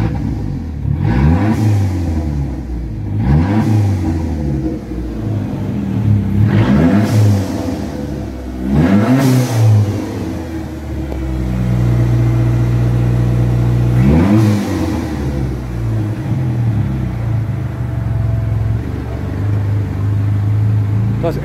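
Car engine after a throttle body modification, revved repeatedly: about five sharp rises and falls in pitch, then a longer held high rev, close and loud, with someone talking between blips.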